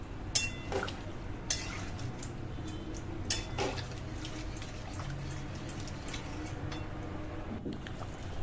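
Kohlrabi stirred in a pan of liquid while it comes to a boil, a continuous watery bubbling broken by a few sharp scrapes and clinks of a utensil against the pan, with no talk.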